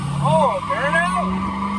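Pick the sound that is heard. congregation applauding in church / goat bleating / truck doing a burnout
truck doing a burnout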